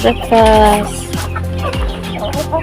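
Chickens at feeding time cluck and make short squawks close by in a busy, overlapping run, with a loud burst near the start, outdoors in a rural yard.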